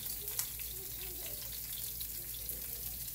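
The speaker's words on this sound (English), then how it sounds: "I'm going to go ahead now and start sauteing these red onions." Red onions sautéing in olive oil in a skillet, a steady soft sizzle holding evenly throughout with a faint brief clink near the start.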